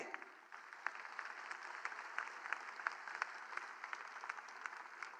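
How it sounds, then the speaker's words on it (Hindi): At an Agra Samaj foundation day event in Delhi, a crowd claps for Nayab Singh Saini. The clapping sounds faint and distant but steady, with individual claps standing out over a dull background hiss. "एक बार जोरदार तालियां भाई साहब के लिए।"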